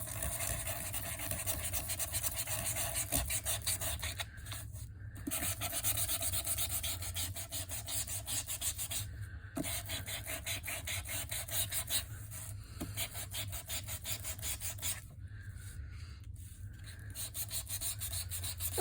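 A small sanding tool rubs back and forth across a record album backboard in close, rapid, rhythmic rasping strokes, broken by a few short pauses, with no voice.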